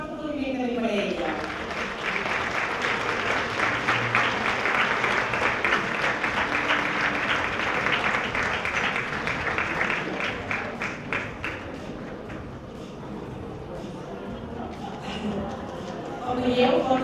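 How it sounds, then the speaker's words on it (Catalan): An audience applauds at an outdoor tribute to women textile workers in Taradell, a steady, sustained round of many hands clapping that fades slightly toward the end, with voices in the background. "Un fort aplaudiment també per ella."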